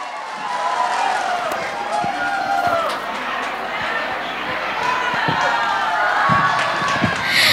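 Audience applause greeting a cải lương singer on stage, a steady dense clapping and crowd noise that holds loud throughout with a few sharper thumps, no clear speech over it.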